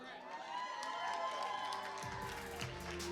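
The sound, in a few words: audience applause for the new judge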